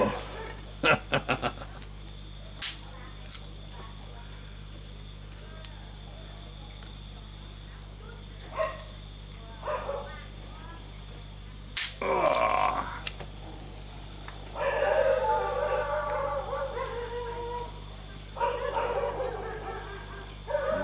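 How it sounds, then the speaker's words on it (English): Street dogs bark in scattered short bursts at a distance, with crickets chirping steadily in the background of a quiet night. "That is the street dogs."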